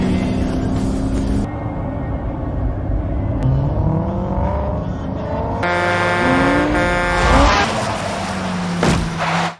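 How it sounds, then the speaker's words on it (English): Car engine revving and roaring in a dramatic near-crash with a truck, loud and close, with rising tonal whines and a horn-like blare building toward the end. "James nearly crashes into a truck while driving his car"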